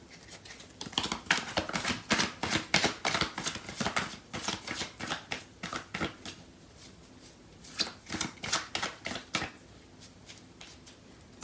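Tarot cards are shuffled for a love reading, giving a run of quick riffling bursts and soft flicks in irregular clusters, close and moderately loud, with no talking.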